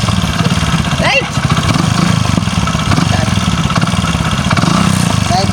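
A motorcycle engine idles close by with a steady low putter, while someone talks over it.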